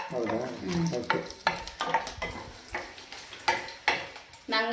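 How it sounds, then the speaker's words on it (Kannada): Cinnamon, cloves, ginger and garlic fry in hot oil for a village-style jackfruit sambar, with bursts of crackling sizzle and pan scrapes as someone talks over them. "ಈಗ ಚಕ್ಕೆ, ಲವಂಗ, ಹಾಗೆ ಶುಂಠಿ, ಬೆಳ್ಳುಳ್ಳಿ ಒಂದು ನಿಮಿಷ ಫ್ರೈ ಮಾಡ್ಕೋಬೇಕು."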